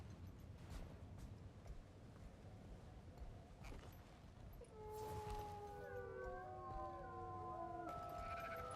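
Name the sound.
wolves howling at night in video game Guild Wars 2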